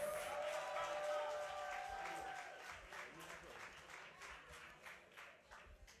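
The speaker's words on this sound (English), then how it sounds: "Please give him a round of applause." An audience applauds a performer at a slam poetry final, a faint, even patter of many hands clapping, with some crowd voices underneath.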